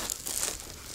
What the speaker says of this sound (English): that goes back to this weatherproof zipper right here. So unzip